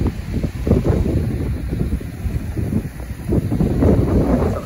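Strong wind buffets the microphone at a beach as big ocean waves roll and crash, a loud continuous roar with surging swells and no talking.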